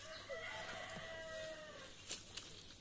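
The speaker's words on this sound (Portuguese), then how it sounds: "Opa aí, tamanho dessa galinha." Chickens and a rooster at an ornamental bird farm give a few clucks and call notes with a short crow-like rise, moderately close, over steady background hum and no talk.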